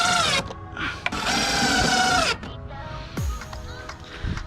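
An impact driver or power drill bolts a custom DIY aluminum canard onto a widebody Ford Fiesta ST, whirring in several close, loud bursts with short pauses between them and clanks of metal, with some talk mixed in.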